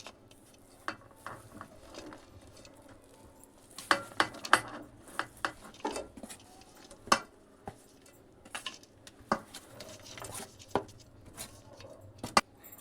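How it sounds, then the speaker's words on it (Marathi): Grated jaggery being stirred into cooked dal in a thick heavy pot, with irregular scraping and clinking of a spoon against metal and soft wet stirring, some strikes sharper and louder than others. "मी आता गूळ यामध्ये मिक्स करते"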